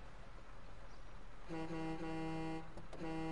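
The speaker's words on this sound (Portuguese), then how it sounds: "Oh, que buzina tão fofa." A car horn in the video game GTA V gives a sustained honk lasting about a second, then a shorter second blast, both fairly quiet over a low background hum.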